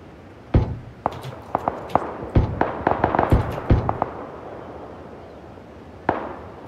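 Gunfire in PUBG: a scattered series of sharp, moderately distant shots, some isolated and some in quick clusters, with a quieter gap before one last crack.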